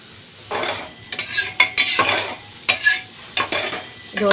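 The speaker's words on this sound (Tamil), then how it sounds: "நெக்ஸ்ட் நம்ம அரிசியை அதில் ஆட் பண்ணிடலாம்." Rice for tomato rice is stirred in a pan of spices, sizzling as a utensil scrapes in irregular strokes with occasional sharp clinks against the metal.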